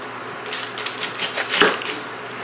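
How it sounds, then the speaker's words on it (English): A knife trims the ends off an onion, with a few close, crisp chopping taps and scraping cuts against a cutting board over a steady kitchen hum. "Now I've got my onion here. Just going to cut off the ends."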